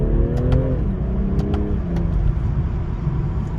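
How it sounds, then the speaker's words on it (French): The six-cylinder engine of a BMW 340i Touring rises in pitch under acceleration, then drops with a gear change before continuing its smooth climb, heard from inside the car over a steady road rumble. "On ressent vraiment les 400 chevaux avec ce 6 cylindres qui a disparu sur les séries 1"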